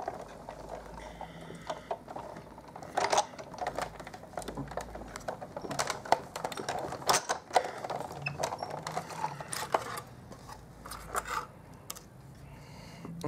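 A die-cutting machine runs cardstock through a die for a Stampin' Up! punch-art card, giving a busy stream of close clicks and mechanical rattles for about thirteen seconds, with no talk.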